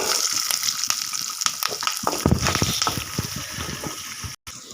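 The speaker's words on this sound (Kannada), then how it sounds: "ಈರುಳ್ಳಿ ಸ್ವಲ್ಪ ಫ್ರೈ ಆದ ನಂತರ ಈ ಥರ ಫ್ರೈ ಆಗಬೇಕು" Chopped onions frying with peanuts and urad dal in oil over a low flame for rava uppittu, giving a steady close sizzle with crackles and scraping stir sounds throughout.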